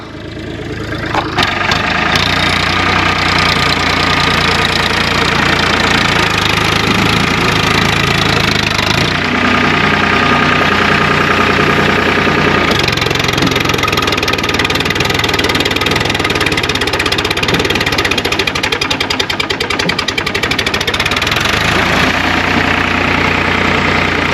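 A farm tractor idles steadily after ploughing a village field, its engine a loud, continuous low rumble with a faint knocking rhythm and vibration throughout, no voices over it.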